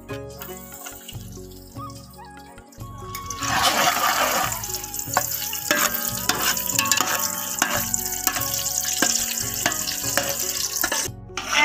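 Onions dropped into hot ghee for chicken biryani, a sudden loud hiss that settles into a dense, continuous frying sizzle with some stirring, heard close up.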